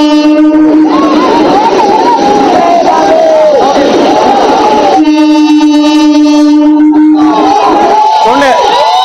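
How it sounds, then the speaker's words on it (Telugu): A train passes very close by, a loud, continuous rumble with long blasts of a train horn, and crowd noise and voices under it. "ఎంత క్లోజ్గా వెళ్తుందో చూడండి ట్రైన్."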